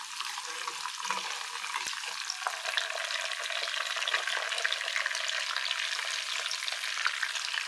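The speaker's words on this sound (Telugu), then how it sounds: "ఇదిగండి పోపు బాగా వేగిందండి." Spices tempering in hot oil in a pan for ginger pickle give a steady, close sizzle and crackle that holds level throughout, with no voices over it.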